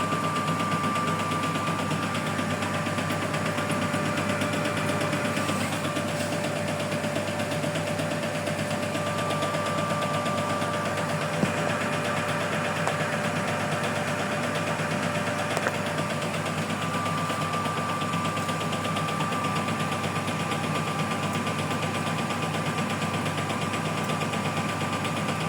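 A new Brandt washing machine's motor drones steadily without pause, with a faint high whine, a small clicking, and a soft rhythmic rattle underneath.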